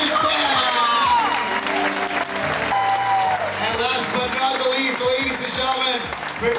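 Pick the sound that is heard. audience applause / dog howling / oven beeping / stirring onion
audience applause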